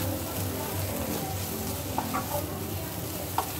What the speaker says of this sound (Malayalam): ഇനി അതിലേക്ക് നമ്മൾ നേരത്തെ ഷ്രെഡ് ചെയ്ത് വെച്ച ചിക്കനും കൂടി ഇട്ട് കൊടുക്കാം